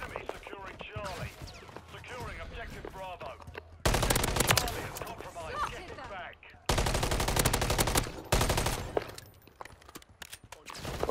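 Gunfire in Call of Duty Modern Warfare 3, with loud, rapid automatic bursts in several long strings and short gaps between them, following a stretch of voice chatter and softer game sounds.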